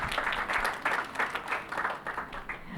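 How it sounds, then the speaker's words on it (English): Dense audience applause fills a conference hall at a mental health summit, honouring a panelist after a panel on postpartum mental health; steady clapping holds, then thins slightly toward the end. "Let's give her a huge round of applause."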